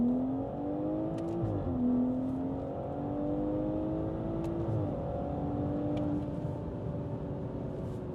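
A BMW G30 540i fitted with a DCE Parts resonated catback exhaust pulls hard in second gear in sport mode, a loud steady engine drone rising in pitch with brief dips at shifts, heard continuously from nearby.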